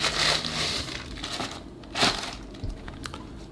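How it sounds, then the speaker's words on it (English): A Canon EOS M10 camera body is unwrapped from bubble wrap and a small plastic bag, giving close, continuous crinkling and crushing plastic with a few louder rustles and no talk. "It's nicely protected in this bubble wrapping, and again in this little plastic"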